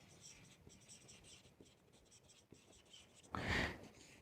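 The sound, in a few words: writing on paper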